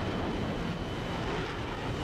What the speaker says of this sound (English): A plane's about to go by me, I think.